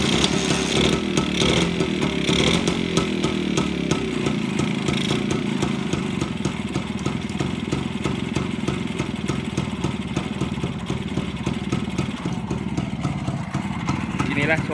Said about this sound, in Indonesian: Inilah suara BSA Bantam setelah ganti shaker dan benerin lubang-lubang pin out-nya linernya.